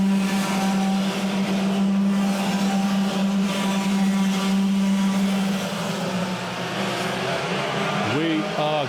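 Racing kart engines at Rye House during a sprint championship heat, a loud continuous buzzing drone with shifting pitch as karts rev and pass, under a commentator's voice.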